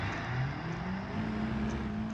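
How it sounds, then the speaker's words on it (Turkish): An idling car engine in BeamNG.drive rumbles low and steady, with a rising tone as the throttle is blipped, moderately close and alone. "Birisi ara gaz yapıyor herhalde"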